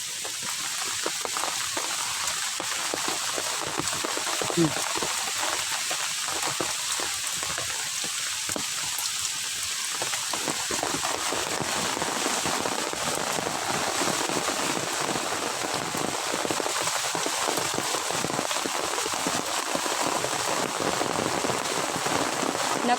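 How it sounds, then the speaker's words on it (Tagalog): Heavy rain pours steadily, a dense, continuous hiss of drops drumming on surfaces with no break throughout. "Lakas ng ulan po."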